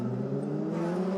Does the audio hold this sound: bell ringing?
no